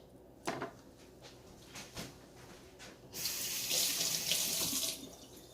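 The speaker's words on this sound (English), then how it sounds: "Let me rinse it." A kitchen tap at a sink runs steadily while a bell pepper is rinsed. A few soft knocks and clunks come first, then the water starts and flows for about two seconds, close by.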